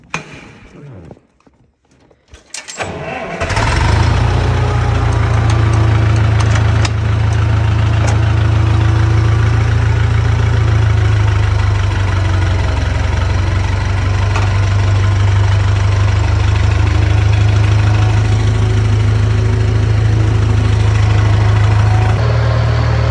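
A John Deere-style 8000 series farm tractor diesel starts and settles into a steady, loud, low idle that holds throughout, close to the listener.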